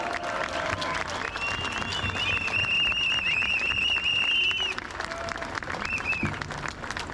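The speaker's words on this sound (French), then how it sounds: "vous pouvez les applaudir" A crowd at a rally and march against pension reform, at Port Royal, applauds the volunteers: sustained clapping from many people at moderate distance, with a shrill tonal whistle rising over it midway before the applause thins out.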